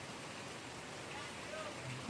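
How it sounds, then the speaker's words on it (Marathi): Steady, dense hiss of rain falling continuously, fairly soft and even throughout with no other distinct sounds. "पाऊस अजिबात थांबेना झाला आहे"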